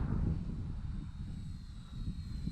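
A Parkzone Sport Cub S2 radio-controlled plane flies past, its small electric motor a steady whine over a broad rushing wind noise, fairly faint and distant throughout.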